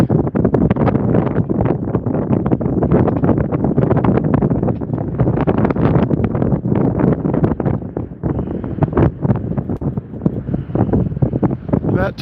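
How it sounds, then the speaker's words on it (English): Strong, gusty wind roars across the microphone aboard a small sailboat, loud and constant with brief lulls, as the breeze builds and shifts direction on the water. "the wind's picking up, changing direction,"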